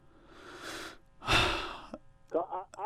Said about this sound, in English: hear that heavy breathing here